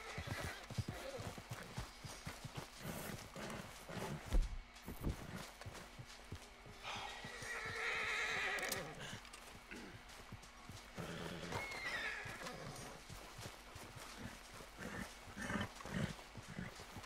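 A horse in the video game Red Dead Redemption 2 whinnies and snorts over steady clip-clopping hooves, with game sounds and occasional voices.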